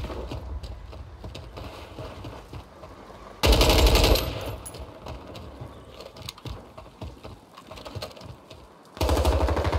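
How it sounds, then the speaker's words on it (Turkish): Bursts of automatic gunfire in a firefight in the Warzone video game, two loud, dense volleys about five seconds apart, with quieter clicks and rattles in between. "Sağımda çatışma var."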